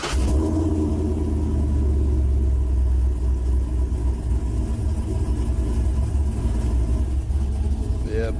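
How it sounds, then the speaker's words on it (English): A pickup truck engine with a Speed Engineering exhaust idles and rumbles in a steady, fairly quiet low drone, heard close and continuous throughout. "I put my Speed Engineering exhaust back on the truck, so it's pretty quiet."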